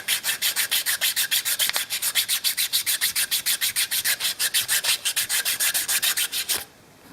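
Hand sanding the rough edges of G10 knife handles in quick, regular back-and-forth strokes, a crisp rhythmic scratching close up that runs steadily for several seconds and then stops.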